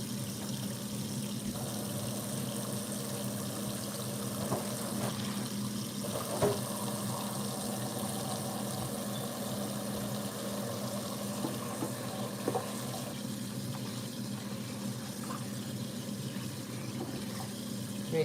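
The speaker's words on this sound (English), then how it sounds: "I'm going to rinse the" A tap runs steadily to rinse opened fish, water pouring in a continuous wash with occasional splashes and clatter, fairly close and alone without talk.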